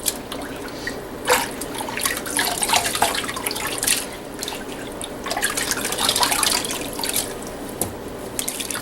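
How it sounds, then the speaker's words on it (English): Wool cloth diaper cover turned inside out and soaked in lanolin water, giving close, continuous sloshing and trickling with scattered drips and splashes as the fabric is worked through the liquid. "I make sure that I pull it inside out and soak it in there"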